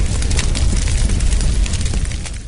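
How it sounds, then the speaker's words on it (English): A dumpster fire sound effect from a haunted soundboard program gives off continuous loud crackling, roaring noise with dense pops throughout, close and unbroken, with no talking. "I thought you were playing a dumpster fire sound effect"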